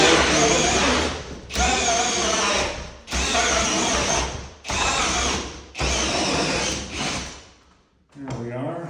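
A drill bores a hole through a pine tongue-and-groove ceiling in five loud bursts of cutting, each lasting about a second, separated by short pauses, with a brief different noise at the very end.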